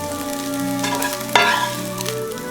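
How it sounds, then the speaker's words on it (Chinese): Egg fried rice with sweet corn kernels stir-fried in a pan, with a soft sizzle under a sharp spatula scrape and a few clinks near the middle, close and short. "再加些甜甜的玉米粒儿，翻炒片刻，盛入碗中"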